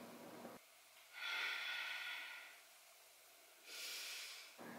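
Deep, slow breaths during a basic yoga vinyasa sequence, close and airy, with two long hissing inhale-exhale swells separated by a quieter pause.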